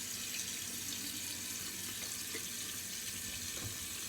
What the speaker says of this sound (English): Not much clean out to a synthetic brush, just a quick rinse out.